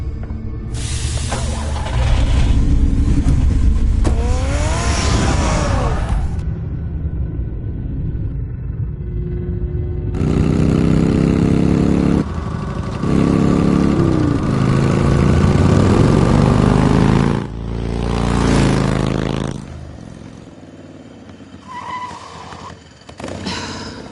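A car engine rumbles and idles in the Batman Telltale video game, with loud low-frequency drone running through most of the stretch alongside game music and effects, briefly dipping near the middle and end.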